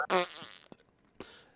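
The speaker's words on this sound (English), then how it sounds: "I mean, super squeaky fart noise." A squeaky fart sound effect from the video game Resident Evil Village: one loud, high, buzzy burst lasting about half a second, followed by a couple of faint short blips.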